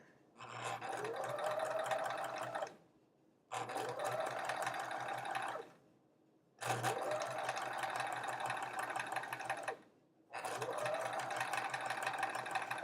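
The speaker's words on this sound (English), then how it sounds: "So I'm trying to sew a little slower." A sewing machine stitches a quilt block in four steady bursts of rapid mechanical whirring and needle chatter, close and clear, with short quiet pauses between runs.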